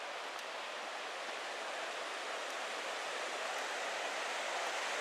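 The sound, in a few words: river flowing in Johnston Canyon, Banff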